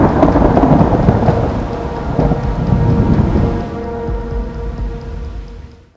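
Heavy monsoon rain pouring down in Pune with rumbling thunder, a loud dense wash of rain and deep low rolls that fade away, leaving a steadier rain hiss.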